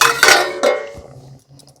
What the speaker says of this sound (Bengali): 1-2 মিনিট পর ঢাকনাটি খুলে নিচ্ছি।